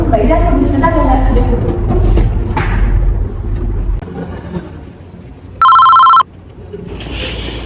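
A telephone rings once with a bright, steady electronic trill lasting about half a second, loud and clear after a stretch of indoor talk and muffled handling noises.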